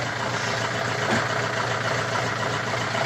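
A tractor engine idles steadily nearby, a continuous low diesel rumble with an even throb that holds constant throughout, alone with no voices.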